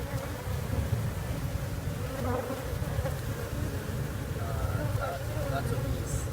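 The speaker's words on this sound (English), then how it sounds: "Lots of bees. Hundreds, maybe thousands." A dense swarm of honeybees drones steadily and close from a hive being removed for relocation, a continuous layered buzz with no break, under occasional quiet human voices.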